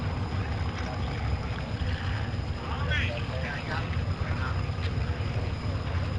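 Racing motorboats, one rated at just 30 horsepower, drone at a harbour boat race as a steady engine rumble mixed with water noise, with a commentator talking over it.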